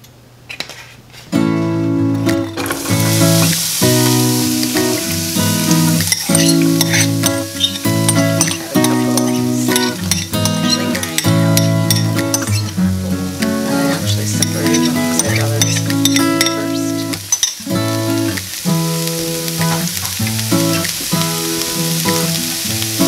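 About two tablespoons of olive oil sizzle loudly and continuously in a pan over a burner set to high, with no talking.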